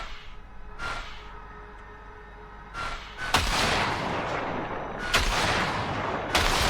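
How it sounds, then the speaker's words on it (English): Bursts of gunfire in Cyberpunk 2077 aimed at a pile of junk, with sharp cracks at first and then a dense, roaring stretch of rapid shots punctuated by louder reports. "See that pile of junk? Fire a short burst into it."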